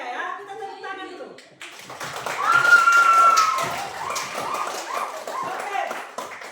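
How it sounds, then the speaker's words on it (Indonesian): Students in a classroom break into rhythmic hand clapping after a teacher's voice, with a bright sustained whistle-like tone over the clapping and chatter mixed in. "Oke, ya, kita tepuk tangan dulu."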